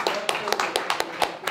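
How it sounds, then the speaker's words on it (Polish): Audience applause at a jubilee celebration, a short patter of scattered hand claps, fairly close and uneven, with a murmur of voices underneath. "No powinny być brawa jakieś."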